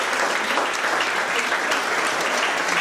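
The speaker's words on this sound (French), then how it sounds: "Donc on va vous saluer en vous applaudissant." Audience applause at a tribute gathering honouring a priest, dense and steady clapping from a full room that holds at an even level throughout.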